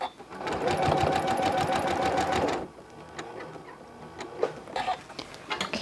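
A sewing machine rattles rapidly and loudly as it stitches a quilt block onto a jacket, then stops, leaving quiet rustling of fabric and short handling noises.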